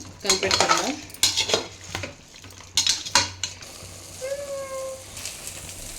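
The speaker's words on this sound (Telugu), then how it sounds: "అయితే బాగా ఉప్పు కలిపెట్టుకుందాం." Chicken stirred with salt in a pan, with close metal utensil scrapes and clinks against the pan in short bursts over a faint sizzle, then quieter stirring near the end.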